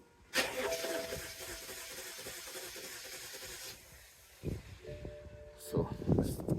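A BMW X1 with timing faults cranks without firing, a steady starter whir with hiss running for several seconds, then stopping before short bursts of noise resume.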